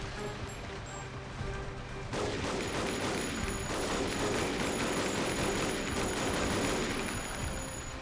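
Steady rapid gunfire and sniper shots in the Dead to Rights video game form a dense, continuous barrage that starts abruptly and stays loud throughout, layered with game effects.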